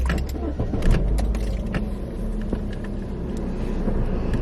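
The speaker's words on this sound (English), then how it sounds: "just needed to turn the car on" A car's engine starts and settles into a low, steady idle heard from inside the cabin, with some light clicks and handling noise near the start and no talking.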